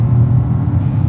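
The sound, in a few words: Peugeot 2008 raspy three-cylinder engine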